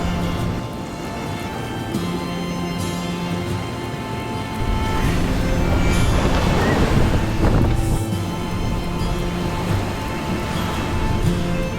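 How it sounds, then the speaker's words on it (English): Steady wind noise with waves washing and splashing over the bows of a sailboat on passage, a continuous rushing roar that swells in the middle. "the noise of the wind and the waves sort of splashing over the bows"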